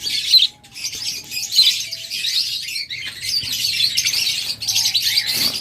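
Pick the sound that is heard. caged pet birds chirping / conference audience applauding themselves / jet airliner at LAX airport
caged pet birds chirping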